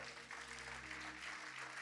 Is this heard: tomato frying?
no